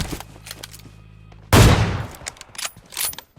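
Gunfire in the PUBG Mobile battle royale game: quiet mechanical clicks at first, then one sudden loud burst of shots that decays into scattered follow-up bangs and clatter.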